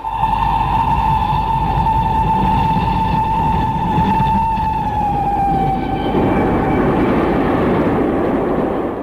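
A train runs at night, with a long, steady horn-like tone that holds and then dips slightly over a constant low rumble.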